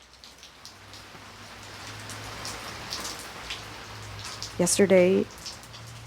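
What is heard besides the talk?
rain falling at night on makeshift shelters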